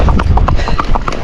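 Rhythmic hoofbeats of a Rocky Mountain gaited horse moving at a trotty, uneven gait, a steady series of close, even clops over a constant low rumble.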